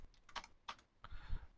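Several crisp computer keyboard keystrokes in quick irregular bursts, close and fairly quiet, followed by a soft thump or two, with no voices.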